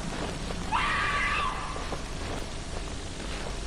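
A woman screams in a horror video game, one shrill, wavering cry about a second long, loud against a dense, noisy game background.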